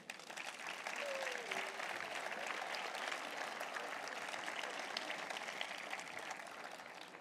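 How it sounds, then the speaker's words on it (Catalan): A crowd at a town festival presentation in Amposta claps steadily, sustained applause filling the whole stretch at an even level. "Demano un fort aplaudiment per a ells."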